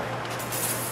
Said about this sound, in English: Spray off the window again.